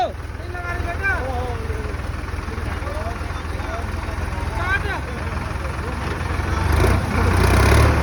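A tractor engine labours and revs while trying to pull a stuck Innova car out at a wedding, droning loudly and steadily under several shouting voices, swelling louder near the end.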